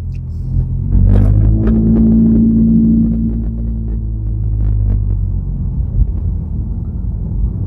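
A lowered Honda CR-Z S+ fitted with a body kit drives through a U-turn, its engine giving a steady, loud, low rumble and drone that swells slightly early on and holds throughout, with no talking.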